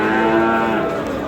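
A calf at the Thursday livestock market in Yangiqurgon, Oqdaryo, Samarkand, lets out one loud, drawn-out moo nearby, full and tonal, with faint market bustle behind it.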